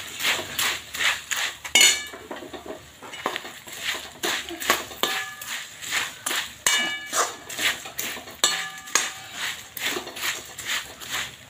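Puffed rice snack being stirred in a pan with red chili powder, salt and chaat masala, giving repeated close clinks and scrapes of a spoon against metal in a steady rhythm, with no talking.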